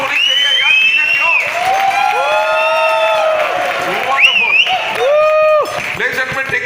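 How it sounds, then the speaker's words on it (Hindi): An audience at a business leadership seminar claps and cheers, a loud, steady roar of applause laced with whoops and shrill shouts that carries on throughout. "ताली जोरदार होनी चाहिए यार, धीरे क्यों?"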